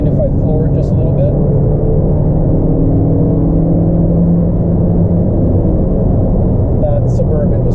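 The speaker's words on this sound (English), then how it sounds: "And if I floor it just a little bit" A 2020 Toyota Corolla Hatchback XSE with an intelligent manual transmission accelerating hard: a loud, steady engine drone and road rumble heard from inside the cabin, continuous throughout.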